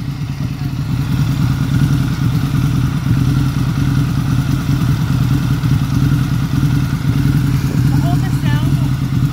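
A Harley-Davidson V-Rod motorcycle engine idles close by, a steady, loud mid-pitched rumble that runs the whole time without change. A voice is faintly heard near the end.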